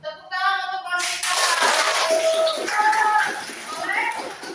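Classroom applause for a student after an accounting exercise: a voice speaks briefly, then a dense, steady burst of clapping from many hands fills the room for several seconds, with faint chatter underneath.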